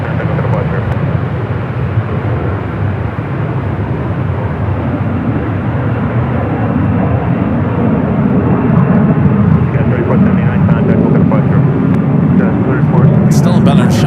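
An airliner landing on runway 28 right at San Francisco International gives a loud, sustained engine roar that swells slightly toward the end, with radio-style voices talking over it.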